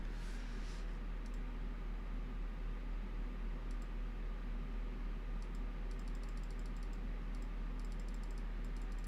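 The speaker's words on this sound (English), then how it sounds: "You can hear my mouse clicking." Sharp, sparse clicks of a computer mouse sound in short bursts over a steady electrical hum and fan-like noise, close and fairly quiet, with no speech.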